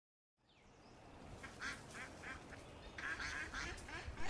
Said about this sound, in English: and the duck